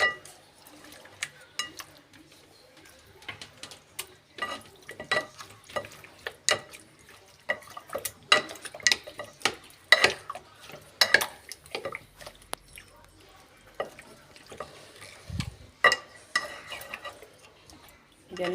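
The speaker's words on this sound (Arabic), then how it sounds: "نقلبها كويس ونخلي كل الفراخ تخش فيها التتبيلة." Chicken pieces being stirred and turned in a KFC-style marinade in a bowl, with a string of wet squelches and utensil clinks against the dish, plus a brief low thump near the end.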